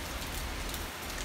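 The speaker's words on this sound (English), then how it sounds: "Came the night, came the rain, came the lightning." Steady, dense night rain during the rainy season in Panama City pours down, an even hiss of drops on surfaces with no pauses and no voices.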